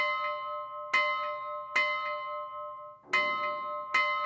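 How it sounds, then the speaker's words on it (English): A ship's bell in a Titanic video game rings five clear metallic strikes at uneven intervals, each with a long bright ringing tail, fairly quiet and heard alone. "You can actually ring the bell."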